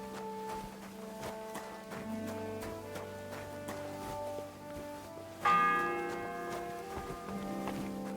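A church bell in the medieval game Kingdom Come Deliverance 2 tolls the seventh bell: several resonant strokes with long ringing decay, a louder, brighter strike near the end swelling over the lingering hum.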